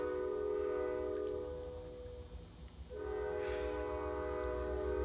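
A train horn sounds in long sustained tones, loud and close. It blares, breaks off for a moment, then resumes, over a low rumble with no talking.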